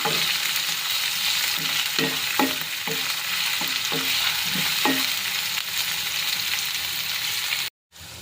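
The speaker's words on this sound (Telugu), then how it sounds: "ఉల్లిపాయలు ఉల్లిపాయలు బాగా వేగాలి" Onions and green chillies fry in a kadai for veg pulav, with a steady bright sizzle throughout and a series of rhythmic scraping stirs near the middle, close and alone before a brief dropout.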